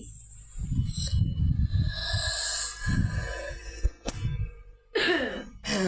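Someone with a sore throat coughs outdoors near a river while boats pass, giving several rough, close bursts of coughing and throat clearing in quick succession, with quiet gaps between them.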